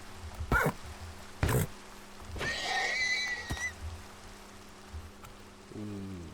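Minecraft horse whinnying amid steady video-game rain, with a couple of short thuds and a rising whinny near the end.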